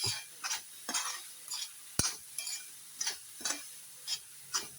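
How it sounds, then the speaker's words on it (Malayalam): Salted food is stirred and mixed in a pan with a utensil, producing repeated scraping strokes in a steady rhythm with one sharp knock partway through, close and fairly quiet over a low sizzle. "ഉപ്പിടുക നല്ലവണ്ണം മിക്സ് ചെയ്യുക"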